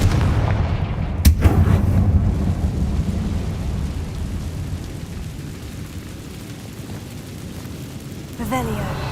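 Confringo fire blast spell cast in Hogwarts Legacy, a sharp explosive boom followed by a long rumbling crackle that fades, with a second smaller burst near the end.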